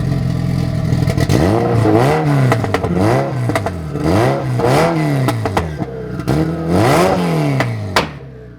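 A Honda Civic EG/EJ1 coupe nicknamed Big Red revs repeatedly, about six close, loud throttle blips that rise and fall in a steady rhythm, each with a clattery edge.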